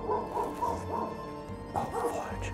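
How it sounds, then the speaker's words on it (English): A dog barks and yips in several short bursts at moderate distance during a nighttime investigation in Liverpool, Nova Scotia, over low background rumble. "Yeah, there's a dog."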